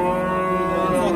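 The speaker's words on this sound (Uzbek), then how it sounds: "Haqiqiy sut yo'nalishidagi qo'nojilarimiz bular" A dairy heifer of Holstein type lows in one long, loud, sustained moo at a livestock bazaar in Kogon.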